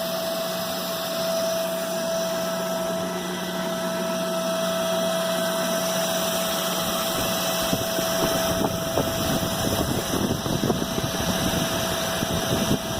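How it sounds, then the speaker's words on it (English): Electric motor running steadily during a Hopkinson test, a continuous machine hum and whine with a strong steady tone, loud and unbroken throughout with no talking. "Now we'll check the speed of the motor."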